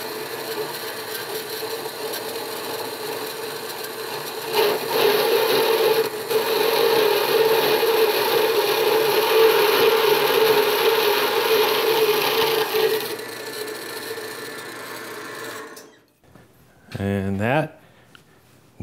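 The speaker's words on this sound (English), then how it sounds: "we'll take it over to the bandsaw and we'll just cut through this" Bandsaw cutting through a metal bar for a bending brake clamping-bar storage rack, a steady loud grinding hum with rasping texture sustained for over ten seconds before winding down, followed by a brief clatter.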